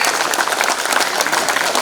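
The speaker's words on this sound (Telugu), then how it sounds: "క్లాప్" A group claps together steadily in a clapping therapy exercise at a Yoga Day session, with dense, continuous applause-like clapping throughout.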